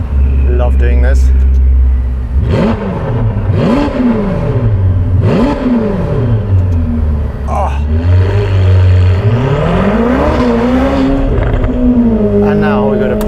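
A Novitec-tuned Ferrari F8 Spider with 802 hp roars through a loud exhaust while driving, rising and falling in repeated revving surges through gear changes, with a person talking over it.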